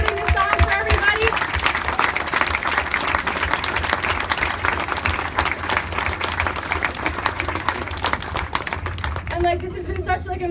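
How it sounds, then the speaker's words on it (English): Sustained audience applause at an outdoor community speaker event for a hope walk celebration, dense steady clapping for about nine seconds before thinning out at the end, with some voices mixed in. "I really want to give another round of applause to Hope Sheds Light for putting this on for everybody"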